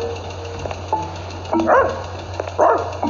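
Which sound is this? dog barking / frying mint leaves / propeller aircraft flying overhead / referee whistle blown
dog barking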